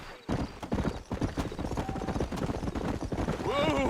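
Horse hooves galloping in the Red Dead Redemption video game, a fast, close, rhythmic clip-clop that runs throughout, with a voice speaking over it and a short whinny-like sound near the end.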